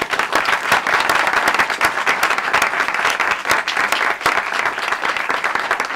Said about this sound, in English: I would like to give them all a great round of applause.